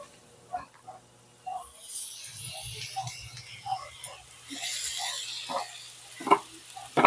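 Chicken breast pieces, three of them, going into a hot pan with garlic and onion, sizzling and frying steadily while being stirred, with scattered clinks and scrapes over the hiss.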